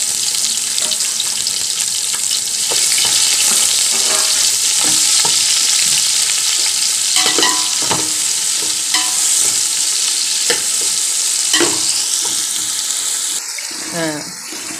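Sliced big onions frying in hot oil for a home-made chicken biryani, a loud continuous sizzle with repeated scraping stirs of a spoon in the pan, the hiss fading briefly near the end.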